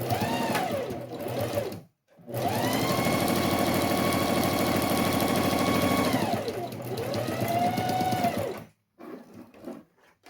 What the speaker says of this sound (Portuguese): a gente faz uma costurinha de retrocesso no início e no final da costura